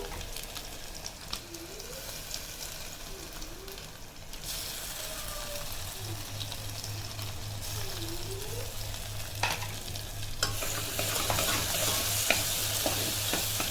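Ground dal, cumin and pepper masala sautéing in a pan for a Kongu-style manathakkali keerai kulambu, a steady soft sizzle with occasional spoon scrapes, growing a little louder toward the end, with no talk.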